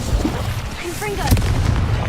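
A Confringo spell explosion in a video game, a loud booming burst with a sharp crack near the middle over continuous rumbling game noise, with a short shouted voice over it.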